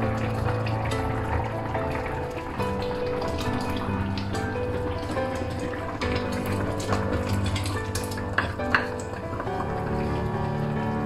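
A Sri Lankan fish curry with mango simmers in a pot while it is gently stirred, making continuous wet bubbling and sloshing with scattered small clinks, close and fairly loud.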